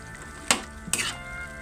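String beans cooking in a pan being stirred, two short scraping, sizzling strokes against a low steady frying hiss.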